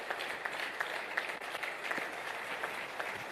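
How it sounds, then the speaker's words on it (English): Audience applause at an entrepreneurship event in Nigeria, a faint, distant wash of clapping that carries on evenly, with occasional sharper individual claps. "Keep the applause going."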